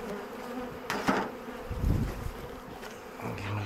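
Honey bees buzz around an opened hive with plenty of brood, a close, steady droning hum with swelling passes of individual bees and occasional handling knocks.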